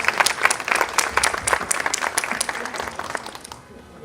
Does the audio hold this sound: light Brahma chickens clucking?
no